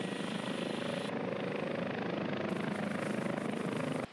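Gazelle helicopter flying during a joint police-military exercise, a loud steady rotor and turbine roar with a continuous rhythmic chop, held close and unbroken throughout.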